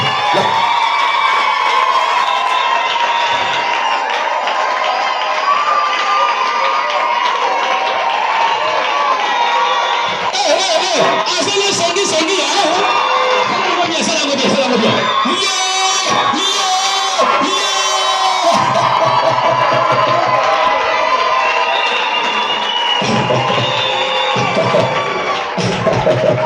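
A church congregation in a tabernacle cheers and acclaims loudly and without pause, a dense wall of shouting voices and whoops from many people.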